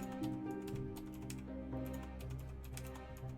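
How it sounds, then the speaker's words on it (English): Quiet, rapid keystrokes on a computer keyboard, a steady run of light clicks and taps close to the microphone with a low background hum. "I'm typing it."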